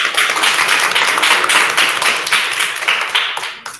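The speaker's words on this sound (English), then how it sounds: "please have a round of applause for Vaishnavi." A classroom of students in a spoken English class applauds a classmate with a burst of close, dense clapping that holds steady and then tapers off near the end.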